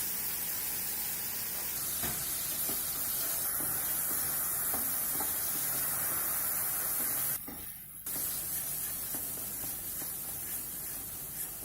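Ripe mango pieces and spices with a little water frying in a pan for mango moong dal, giving a steady close broadband sizzle and hiss throughout, briefly interrupted by a sharper burst near the end.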